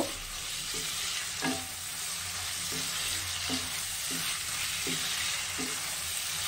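Chopped raw tomatoes fry over a high gas flame for a morola fish chorchori, sizzling steadily up close while a spatula scrapes the pan at a regular rhythm, roughly once a second, with no voices.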